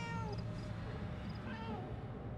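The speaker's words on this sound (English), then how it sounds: "Oh, maybe meow at a person?" Game cat in Murdered: Soul Suspect gives a few short meows over a steady, low ambient bed, fairly close and clear.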